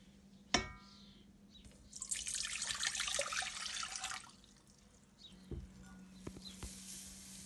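Warm water poured into a pan while making elderflower cordial syrup with sugar: a soft clunk, then a rushing pour for about two seconds, followed by a few light knocks and clatters in a quiet kitchen.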